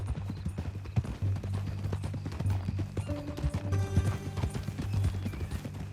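Hooves clip-clop at a steady walking pace from a horse in the video game Red Dead Redemption 2, close and distinct over a low hum, with a brief neigh and snort partway through.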